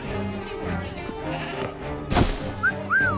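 A goat in the video game Assassin's Creed Syndicate gives a couple of short bleats near the end, over a busy background of game ambience and a sudden crash-like burst.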